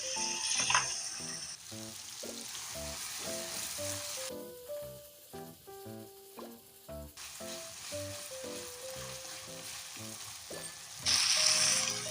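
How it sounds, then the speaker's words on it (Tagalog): Tomatoes sautéing for Filipino ginisang munggo with shrimp, a steady close sizzle with occasional stirring, a louder hiss near the end, and tonal background music throughout. "Haluin natin hanggang sa lumambot yung ating kamatis."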